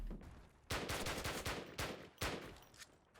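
A rapid series of gunshots cracks out in Call of Duty: United Offensive, several loud sharp bursts close together, fairly near, with no talking.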